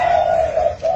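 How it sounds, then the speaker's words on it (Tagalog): Fighting birds, kuro-kuro doves, give a loud, close, sustained cooing call with a brief dip near the end, over a faint background murmur. "Ibon na nga yung nagsasabong."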